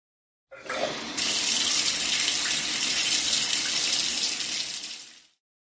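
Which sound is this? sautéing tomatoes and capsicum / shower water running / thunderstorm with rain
shower water running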